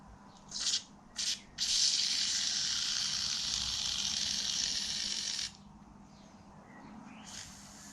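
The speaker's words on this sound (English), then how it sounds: "I think if I just spray it down there" WD-40 sprayed from an aerosol can onto a Yamaha Virago motorcycle during MOT repairs, two short hissing bursts followed by a long steady spray of about four seconds, close to the mic, then a faint brief hiss.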